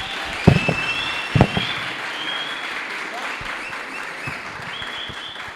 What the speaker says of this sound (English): Please give him a very, very big round of applause, Dr. Xaba.